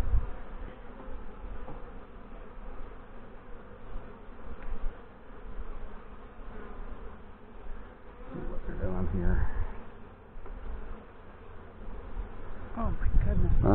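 Honey bees buzz in a steady, close drone throughout a May hive inspection at G&H Honey Bees, with frames of drawn comb, honey and pollen being handled; a few louder rustling bursts stand out, and people talk softly at times.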